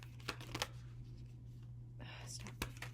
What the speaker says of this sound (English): so they don't shuffle as great as I would like.